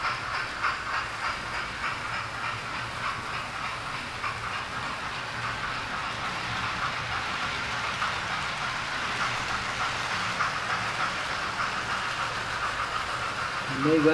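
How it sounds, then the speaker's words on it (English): A small model train runs steadily along the track through a lit station area with a soft rolling clatter and hiss, continuous and moderately close, with faint background noise. "As the train goes through."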